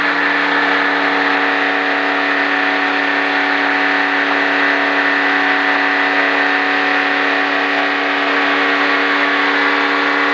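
A race car engine held at a steady, droning whine while circling Daytona Speedway on a Richard Petty Driving Experience ride, loud and close from inside the car, with no change in pitch.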